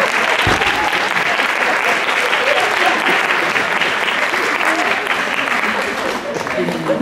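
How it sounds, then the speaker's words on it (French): A theatre audience at a performance of Les Fourberies de Scapin applauds, a thick, continuous wash of clapping that stays loud and even before easing slightly near the end. "Un peu d'applaudissements, s'il vous plaît."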